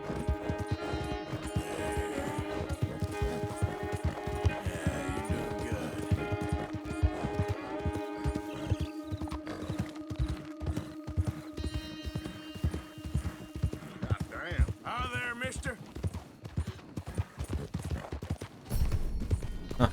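Horse hooves gallop in the Red Dead Redemption 2 video game, a fast, steady clip-clop rhythm running for the whole stretch over a sustained musical background, with no voices.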